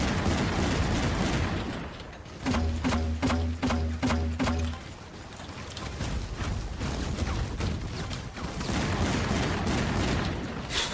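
Weapon fire in Battlefield Heroes, a burst of about eight rapid, evenly spaced mechanical shots in the middle of a dense, noisy game mix.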